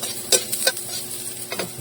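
Ginger and onion sautéing in a pan, a short sizzle broken by a few scraping stirs of a utensil against the pan, close and unaccompanied by speech.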